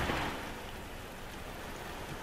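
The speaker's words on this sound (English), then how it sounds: "It is raining." Steady rain falls in the Drive Club racing game, a dense even hiss that is loudest at the start and then holds at a constant moderate level with no voices.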